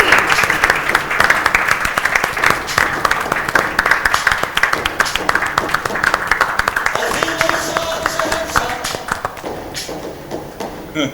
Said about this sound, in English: और जब तक म्यूजिक आ रहा है तब तक तालियां चलती रहेंगी ऐसे ही